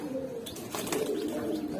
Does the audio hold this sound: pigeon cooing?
yes